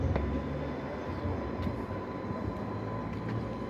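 Train 484002 departing Ryde on the Isle of Wight line towards Shanklin on a spring evening: a steady, fairly loud rumble and roar of the moving train throughout, with faint higher clicks and no talk.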